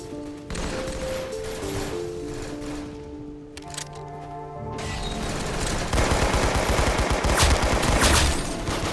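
Tommy gun fire in the Roblox game Arsenal: loud bursts of rapid automatic shots mixed with game music and effects, growing denser toward the end.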